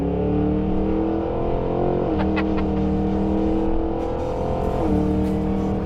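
A 2023 Cadillac Escalade-V luxury SUV accelerating hard, a loud, close, continuous engine roar climbing in pitch with two distinct gear-shift dips along the way.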